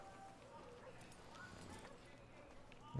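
Horse hooves clopping in Red Dead Redemption 2, a steady low patter of game steps under soft ambient sound, with a brief louder thump near the end.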